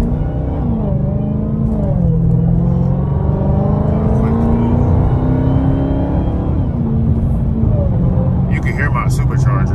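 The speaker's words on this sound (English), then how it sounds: "You can hear my supercharger." A Dodge Hellcat's supercharger whines while the car is being driven, a rising and falling tonal whine over a constant low engine rumble, loud and steady throughout the drive.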